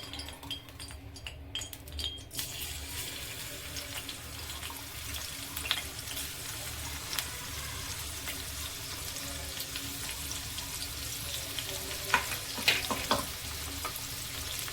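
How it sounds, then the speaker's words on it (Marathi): Garlic dropped into hot oil in a kadhai sizzles with a steady, close frying hiss, with a few sharp clinks of a utensil near the end. "तेल छानसं कडल्यानंतर त्याच्यामध्ये आपल्याला लसूण टाकून घ्यायचंय"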